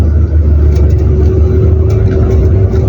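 A car engine hums steadily and loudly from inside the cabin as the clutch is eased out and the car starts to creep forward, a low continuous rumble with no speech.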